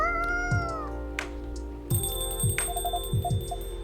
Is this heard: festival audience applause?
no